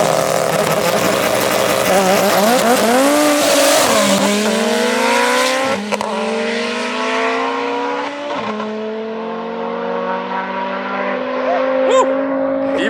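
Loud, close engines roar at full throttle, then pitch climbs in repeated surges as gears shift while an Audi RS3 and a Mitsubishi Evo VIII, both all-wheel drive, accelerate hard down the drag strip.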